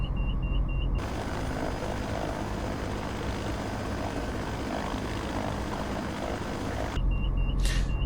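An H500C helicopter warms up in Microsoft Flight Simulator 2024 with a steady, loud turbine-and-rotor drone. Thin, repeating warning beeps sound just before the engine noise starts and again after it stops.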